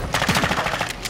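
Rapid, closely spaced shotgun blasts in the shooter game Expedite-12, a loud burst of about a dozen sharp reports fired in quick rhythm over roughly a second, close and dominant.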